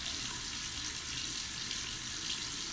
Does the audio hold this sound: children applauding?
no